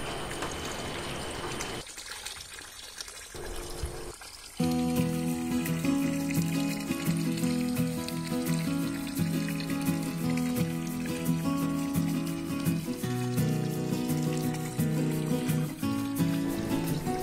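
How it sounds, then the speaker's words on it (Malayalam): A submersible pump in a fish pond throws a strong jet of water about three feet high, making a steady pouring, splashing rush that runs on continuously, with louder music-like tones over it. "അത്യാവശ്യം നല്ല ഫോഴ്സിൽ വെള്ളം ചാടുന്നത് നിങ്ങൾക്ക് കാണാൻ സാധിക്കും."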